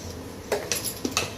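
A spoon stirs Surti locho batter with hing in a bowl, giving a few quick clinks and scrapes against the bowl, close and brief.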